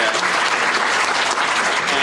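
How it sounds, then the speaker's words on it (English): Dense, steady applause from a conference audience honoring panelists after a tax reform and estate planning panel discussion, loud and continuous across the whole moment with no talk over it. "if you give our panelists a round of applause."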